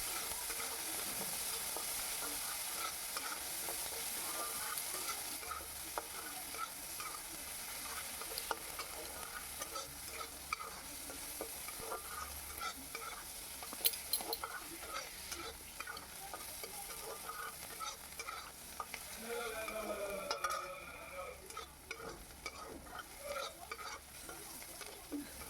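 Two chopped onions fry in a pan until reddish-brown, giving a steady, quiet sizzle throughout, with occasional scrapes and clinks of a spatula stirring against the pan.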